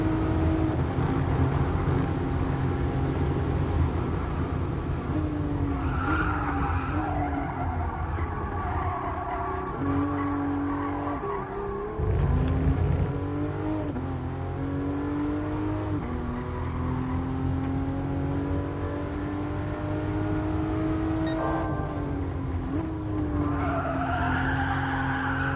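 GR Supra GT Cup car in GT Sport at Fuji, engine revving hard with turbo while the tires squeal and skid through sustained slides, loud and continuous over about 25 seconds.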